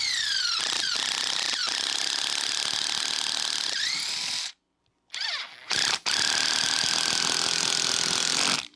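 A Star-M countersink drill bit drives a screw into wood with a loud, continuous grinding whir that stops briefly, restarts in short bursts, then runs steadily again, close up with no talking.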